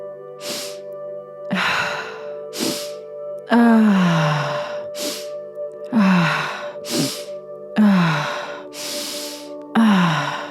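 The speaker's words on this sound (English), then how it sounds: "Just keep breathing." Deep, loud breaths fill a breathwork session for heart opening, with long gasping inhales and sighing exhales repeating in a slow, regular rhythm, close up and with no talking.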